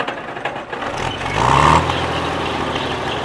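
An Allis Chalmers WD45 diesel tractor runs nearby after sitting for two years, its engine a loud steady drone that rises briefly and then settles again, heard alone without talk.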